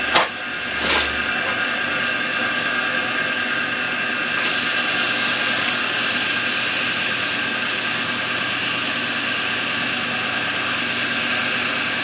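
Wood is sanded smooth with sandpaper before waxing, a continuous broadband rasp that grows louder and brighter partway through, with no voices.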